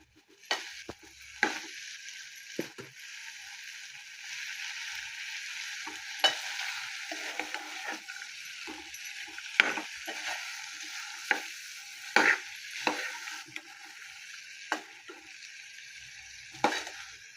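Ingredients are stir-fried in a pan over high gas, giving a steady bright sizzle punctuated every second or two by sharp spatula scrapes and knocks against the pan.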